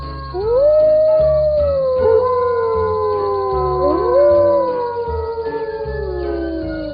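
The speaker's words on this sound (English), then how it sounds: "there was a group of jackals who were howling at a distance" A group of jackals howls together, several long rising and falling wails overlapping over a low rhythmic musical backing, loud and sustained throughout.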